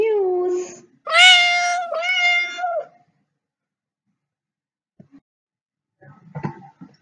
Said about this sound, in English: A cat mews.